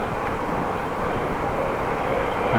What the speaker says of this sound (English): and there we have a train.